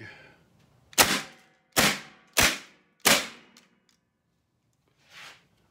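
Suppressed B&W S45 pistol firing TPP ammunition, four sharp close reports at uneven intervals followed by a fainter fifth, with quiet gaps between.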